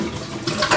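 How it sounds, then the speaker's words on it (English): A household toilet flushing, loud and close, with a steady rush of water that swells toward the end of a short burst, no voices. "you flush the toilet"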